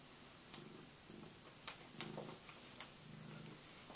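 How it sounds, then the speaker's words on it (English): A pet cat named Bella purrs softly nearby in a quiet room, a low rhythmic rumble repeating in short bursts with a few faint clicks. "If you hear a cat, that is my cat Bella."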